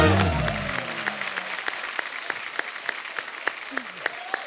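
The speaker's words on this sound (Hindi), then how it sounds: "जोरदार तालियां गोविंदा सर के लिए," A studio audience at a comedy talk show applauds loudly at first, the clapping fading into scattered individual claps over a few seconds while other sounds briefly rise and fall.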